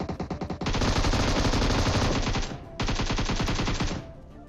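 Automatic gunfire in the game PUBG Mobile: a few single rapid shots, then two long, loud, dense bursts of continuous fire separated by a brief pause, close and dominant with no talk.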